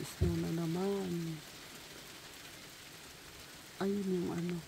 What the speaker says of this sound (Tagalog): Ayan, biglang umulan na naman.